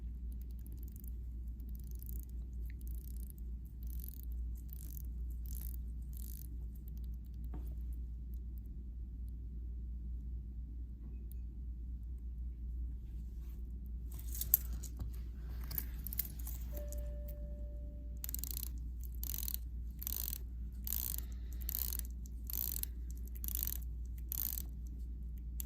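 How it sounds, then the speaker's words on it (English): Two runs of rapid, crisp mechanical clicks from the bezels of two Seiko watches, an SPB263 and an SLA049, being turned, the first faint and the second louder and closer, over a steady low hum. "The bezels do sound a little bit different as well, so I'll give you a quick bezel action"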